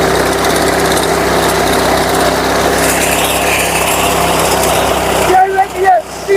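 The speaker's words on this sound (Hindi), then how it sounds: "तो तीसरे गियर में ये मशीन इनको काटेगी, छोड़ेगी, फेंकेगी" A wheat reaper machine runs steadily in third gear during a harvest, its engine a continuous close, loud buzzing drone that briefly dips and sputters near the end, with someone talking over it.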